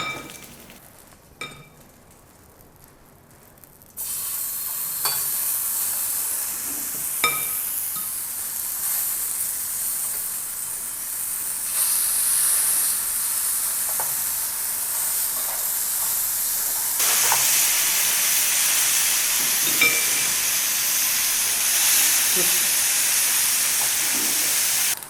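Sate maranggi grills on a grill pan greased with butter, a steady loud sizzle and hiss that starts abruptly and intensifies partway through, with occasional faint clinks.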